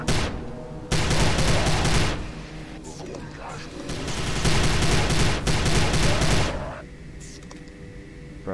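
Sustained bursts of gunfire from shooting enemies below in the video game Prey, loud and dense with brief gaps, mixed with a voice talking over the action before things quiet down near the end.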